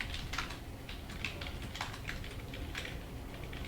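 Keys clatter quickly on a computer keyboard as code is typed, a fast, steady patter of close, soft clicks running throughout with no pauses.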